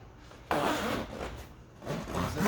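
A zipper on a fabric roll bar cover for a Jeep Gladiator JT is pulled in two raspy strokes, close and fairly loud, while the cover is fitted inside the vehicle.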